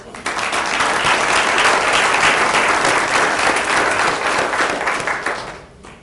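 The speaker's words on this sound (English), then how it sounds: "so we give you a round of applause" A school board meeting audience gives loud, sustained applause to honour a student's parents, continuous dense clapping that fades out at the end.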